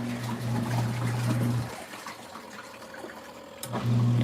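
LG ThinQ MEGA top-load washer beginning agitation on a darks cycle, water sloshing and churning in the drum over a steady motor hum that drops out and then returns.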